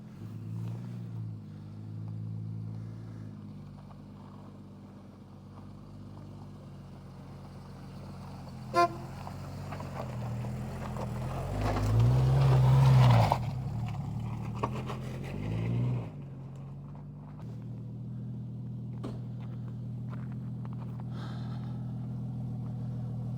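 A rolled-over Jeep drives along the road, its engine giving a steady low drone throughout, swelling briefly with a louder horn-like burst around the middle before settling back.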